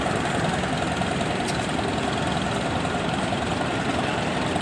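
A 1939 Farmall F20 tractor runs at a steam and antique engine show, its engine chugging at a steady idle with an even low knocking throb throughout, fairly loud and close.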